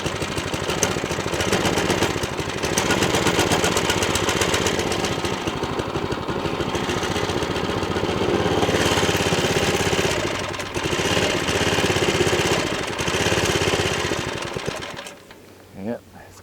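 A small Baja DB30 minibike engine idling while warming up on choke, a loud, fast, steady putter running close by before cutting out near the end.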